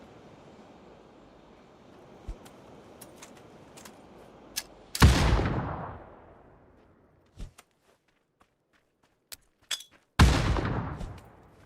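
Submachine gun fire in a ranked solo video game comes in two loud close bursts, each tailing off, with scattered single shots and footstep-like taps between them.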